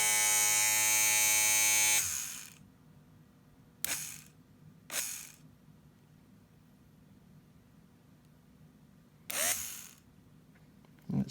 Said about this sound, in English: So this is running really good. It's noisy because there we go.